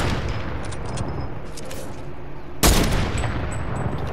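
Sniper rifle fire in a Fortnite match: one loud, sudden blast cuts through a continuous dense wash of in-game noise and gunfire.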